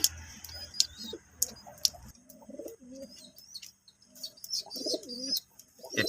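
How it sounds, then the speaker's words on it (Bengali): A Khulna pattiwala pigeon coos in soft, low, rolling phrases close by, with sharp chirps and ticking sounds scattered around it. "খুলনার বিখ্যাত পাট্টিওয়ালা কবুতর"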